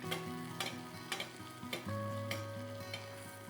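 Butter-basted steak sizzling in a hot pan, a steady frying hiss with a few soft spoon or pan knocks recurring every half second or so, close and moderately loud with no talking.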